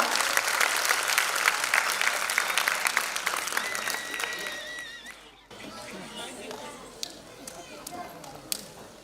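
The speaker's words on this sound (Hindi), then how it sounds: "जोरदार तालियां।" Loud audience applause with scattered cheers at a Bharatanatyam classical dance annual function swells, then dies down and picks up again more softly amid crowd chatter.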